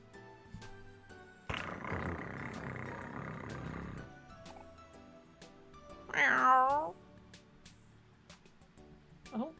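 Cat meowing in the Omori video game: one short, clear meow stands out midway over quiet game music, after a burst of noisy game sound effects, with no talking.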